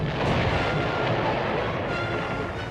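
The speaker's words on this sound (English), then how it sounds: "Destroyers on both sides exchanged light fire." Naval gunfire as destroyers on both sides trade light fire, a dense continuous rumble of booms and blasts held at a steady, loud level throughout with no clear gaps between shots.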